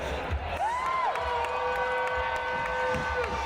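Roller derby crowd cheering after a tied game, a steady mass of noise from a large audience with a whistle-like tone rising and falling, and a voice talking over it.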